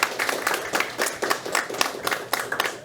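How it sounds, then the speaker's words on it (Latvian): Applause from a youth audience at a talk on European Parliament elections, a modest group clapping in distinct, fairly rhythmic bursts that stay moderately loud. "Aplausi visiem mums!"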